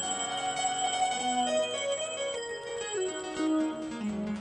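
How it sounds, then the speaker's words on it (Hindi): A bell rings loudly and alone, its tones clear and resonant, sliding gradually lower over a few seconds. "जैसे ही जरा सा माखन मुख से लगाया तो घंटी जोर जोर से बजने लगी।"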